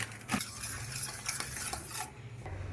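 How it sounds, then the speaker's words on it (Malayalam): A spoon stirs two teaspoons of cornflour into milk in a bowl, a quiet run of close clinks and swishing scrapes at an even pace, with no voices. "ഇനി ഈ പാലിലേക്ക് 2 ടീസ്പൂണ് കോൺഫ്ലവർ പൊടി ഇട്ടിട്ട് മിക്സാക്കി വെക്കാം"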